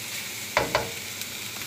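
Pancit canton noodles fry and get stirred in a pan, a steady low sizzle broken by two sharp scraping clatters of the utensil close by, with no talking.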